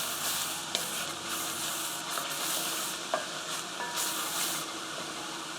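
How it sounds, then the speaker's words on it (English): Minced garlic and onions cook in a pan ahead of arborio rice for risotto, a continuous bright sizzle with a few sharp clicks from a stirring utensil and no talking. "this is just gonna cook for 30 seconds with the onions"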